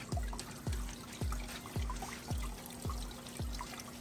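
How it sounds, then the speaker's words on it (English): Water trickles and splashes steadily through a vertical hydroponic tower garden while the pump's low, rhythmic thumping pulses about twice a second underneath. "Okay, you can hear the pump."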